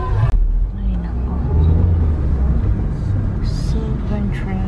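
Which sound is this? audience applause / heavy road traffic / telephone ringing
heavy road traffic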